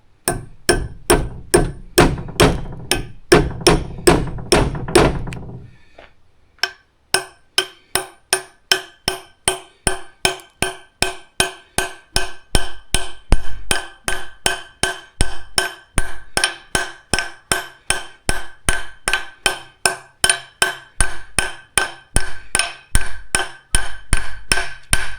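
A hammer drives a wedge into the head end of a wooden axe handle during re-handling, sharp ringing metal strikes in a fast, steady series, pausing briefly after a dense early burst before the regular blows resume close and loud.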